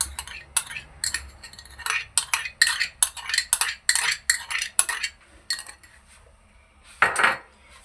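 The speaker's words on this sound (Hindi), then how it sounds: "अब हम दूसरी पतीली चढ़ा रहे हैं" Metal cooking pots and utensils clink and knock on a stovetop while jaggery vermicelli is being prepared, a quick string of close, moderate clatters with one louder clang near the end.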